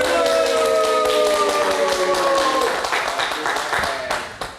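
Studio audience applause and clapping at a live comedy show, a dense burst of claps that starts loud and gradually thins out, with a sustained tonal musical sting sounding over it at first.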